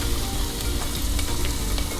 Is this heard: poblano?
yes